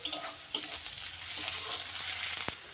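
Slit green chillies hit hot oil for a Bengali latha fish bhuna, giving a steady crackling sizzle with a few sharper pops, fairly close and without talk.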